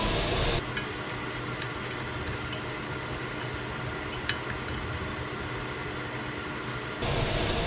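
Sliced onions frying in hot oil with salt added, a dense, even sizzle that holds loud and steady for several seconds, with a faint clink partway through.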